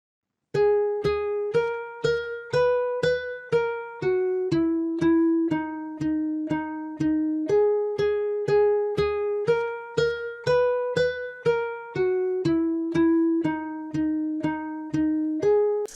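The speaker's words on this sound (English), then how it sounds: "And the second guitar sounds like this." Second guitar layer from an FL Studio trap guitar loop, a plucked Kontakt-style Nile guitar playing an even stream of bright, clearly separated notes at a steady rhythm, loud and alone throughout.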